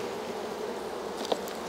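Honeybees buzz steadily at an opened hive during an October colony check, a soft continuous drone with a brief sharper sound near the end.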